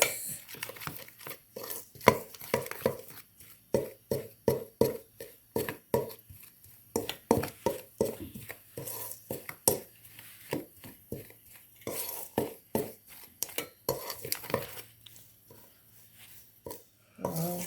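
Coconut sugar and cinnamon being mixed in a bowl, a rapid, rhythmic series of close, sharp taps and scrapes of the utensil against the bowl, with short pauses between bursts.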